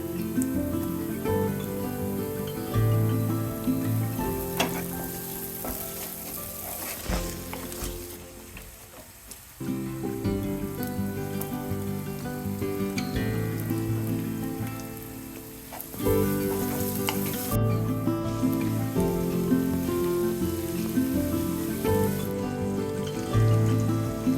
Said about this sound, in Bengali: হাফ কাপ তেল নিয়ে তাতে পেঁয়াজ কুচি মরিচ কুচি রান্না করা মাংস কুচি ক্যাপসিকাম টমেটো নুডলস মশলা মটরশুঁটি দিয়ে একটু ভেজে নিব